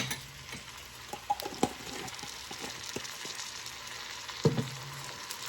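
Diced seeded jalapeno and jarred garlic sizzle steadily in a hot pan as the vegetables are stirred, a constant frying hiss broken by a few sharp clicks of the spoon against the pan.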